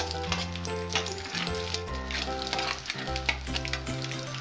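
Dried red chillies sizzle and crackle in hot oil over a high gas flame, a loud continuous frying hiss. Low sustained musical tones run underneath.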